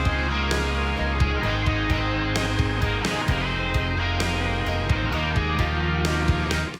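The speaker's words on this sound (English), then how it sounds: "It's got a great organ part in the background" A full country song mix plays steadily with a background organ part under drums and other instruments, dense and continuous with regular percussive hits and no talk.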